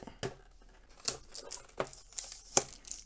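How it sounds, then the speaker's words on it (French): Tape peels off the packaging of a Poké Ball Switch controller in several sharp, ripping tugs spaced irregularly, close and fairly quiet, with no talking. "Alors on va retirer les scotch sur les côtés également."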